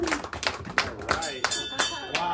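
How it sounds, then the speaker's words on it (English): Crowd applause rings out for a volunteer during a close-up bar magic show at the Magic Castle, a patter of scattered claps mixed with voices and room chatter. "Give Tammy a big round of applause"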